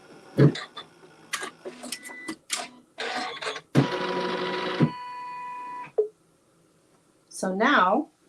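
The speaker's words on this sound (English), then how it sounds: "And we'll go ahead and stitch that seam" A sewing machine stitches a quilt seam in short, choppy bursts and one sustained run, with gaps between them, close and fairly loud, with a voice speaking briefly near the end.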